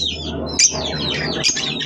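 Pet birds kept at home chirp in quick, bright tweets close by, a rapid run of sharp calls with a couple of louder notes standing out over a low steady hum.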